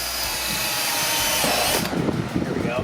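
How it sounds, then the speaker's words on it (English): Power drill boring holes in a Nissan GTR during work on a 1200HP build, a steady whining buzz that drops into rougher, uneven grinding bursts partway through. "Drill holes in GTRs for sure."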